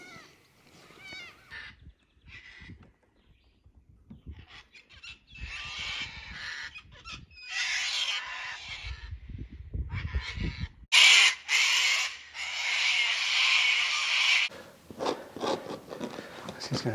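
Birds calling near a stretch of the Murray River, with crows cawing in harsh bursts among other bird cries, fairly close and loud in places, broken by short quiet gaps.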